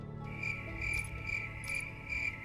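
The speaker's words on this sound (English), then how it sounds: "Chat, were you hearing a cricket sound?" Cricket-like chirping in the video game Outer Wilds, a steady high trill with pulsing bursts, moderately close and alone.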